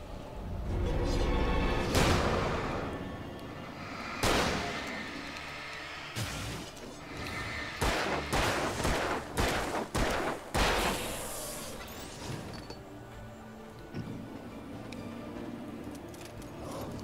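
Gunfire in the horror video game Alan Wake: a loud burst of shots at the start, then several more sharp cracks in quick succession over a steady, eerie musical backdrop.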